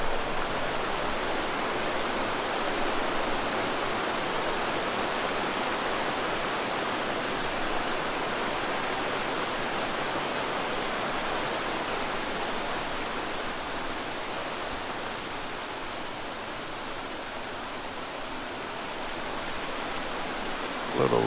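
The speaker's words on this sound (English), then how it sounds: "Listen to the water roar." Steady, loud roar of rushing water from a stream or waterfall along a scenic South Dakota highway between Mount Rushmore and Deadwood, continuous broadband noise holding even for the whole stretch with no voices.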